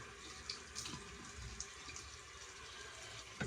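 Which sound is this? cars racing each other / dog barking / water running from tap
water running from tap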